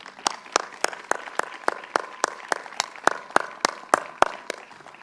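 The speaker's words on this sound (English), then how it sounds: "I'd like for all of us to give them a round of applause" Sparse hand claps at a high school commencement, about eighteen sharp claps in a loose steady rhythm, from a small group clapping without any talking.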